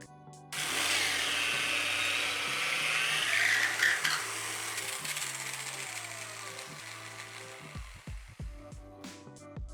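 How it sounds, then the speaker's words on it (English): A hand drill bores holes for shelving brackets in wooden shelves, a steady whining drone that runs for several seconds, then slows and stops, followed by a few clunks and taps. "I've got to finish the rest of the hole out for my shelving brackets with this hand drill"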